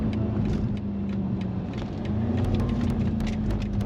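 A 2022 BMW M550i's V8 rumbles steadily through a series of downshifts, the engine note rising and settling under a continuous road drone, heard loud and close from inside the car.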